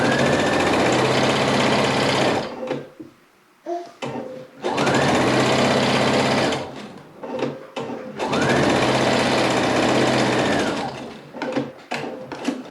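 A sewing machine stitches jelly roll strips for a race quilt in three sustained bursts of rapid mechanical whirring. Brief pauses with small clicks and handling noises separate the runs, close to the microphone.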